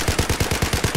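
Rapid automatic gunfire in the video game Battlefield 4, a loud steady burst of about ten evenly spaced shots filling the whole second.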